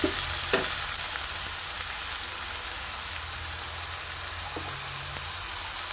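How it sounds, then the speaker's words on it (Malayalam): Cooked beans being stirred into a banana flower thoran in a pan, a soft, steady sizzle with an occasional faint scrape or tap of the spoon, and no one speaking. "ഇളക്കി യോജിപ്പിക്കാം"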